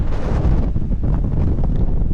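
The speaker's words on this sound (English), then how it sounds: "it's a bit windy" Strong wind buffeting the microphone at Kalbarri National Park, Australia, a loud continuous roar with gusty rumbling and no voices.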